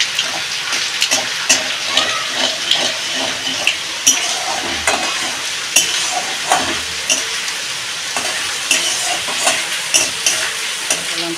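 Five-spice seeds with dried and green chillies sizzle and crackle in hot oil in a pan for khichuri, with a steady frying hiss broken by repeated scraping stirs and light clinks of a spatula against the pan.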